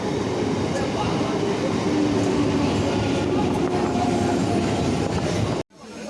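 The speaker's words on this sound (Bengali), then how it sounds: "গাইস ট্রেন ঢুকছে প্রচণ্ড লেট করেছে" A train pulls into a station with a loud, continuous rumble and rattle of railcars close by, ending in a sudden cutoff near the end.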